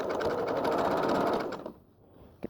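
A sewing machine stitching a blind hem on trousers runs in a fast, even whirr for about a second and a half, then stops, followed by a single sharp click close to the microphone.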